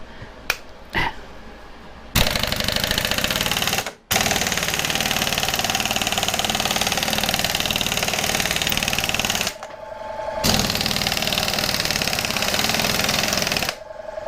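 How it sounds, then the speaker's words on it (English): An air compressor in a garage runs loud and close with a rough, chugging drone, cutting out briefly twice before kicking back on, with a few sharp clicks and knocks before it starts. "the compressor come back on"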